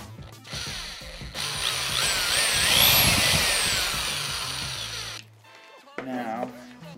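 Power drill boring with a bit while building a miniature Japanese diorama shelf, a loud rising and falling motor whine lasting several seconds, then a short pause and a brief second burst, with faint voice around it.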